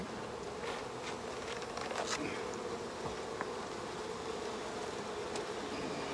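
Honeybees at an open hive during an inspection make a dense, steady, loud buzzing, a continuous close swarm drone with faint clicks and no talking.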